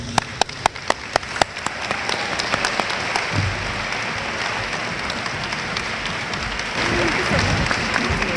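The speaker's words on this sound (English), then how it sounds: "Ladies and gentlemen, please give a round of applause to Ms." A university homecoming convocation audience applauds for Ms. Sharika L. Nelson, starting with a few sharp nearby claps and swelling into a broad, steady roar of clapping from a large crowd.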